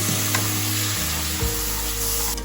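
Ground cumin, coriander and Kashmiri red chilli powder with salt sizzle loudly in oil in a pan, a dense continuous frying hiss close up with no voices.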